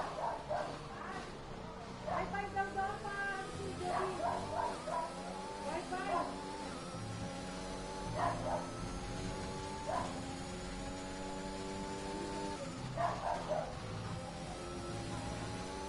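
A dog barks and yips repeatedly in the room, with short bursts spread throughout. A person keeps talking over the sound of a Formula 1 racing game.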